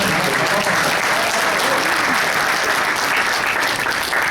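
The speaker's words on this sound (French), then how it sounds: "On peut sérieusement donner une bonne main d'applaudissement aux gens." Dense, steady applause from a large audience fills the room at a French-language Organo Gold direct-sales business presentation, holding loud and unbroken throughout without any voices rising above it.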